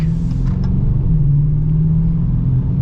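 A deep, rumbling 5.7-litre Hemi V8 in a 2022 Dodge Challenger R/T Plus idles and revs lightly up close, a low steady growl with a slight rise in pitch midway.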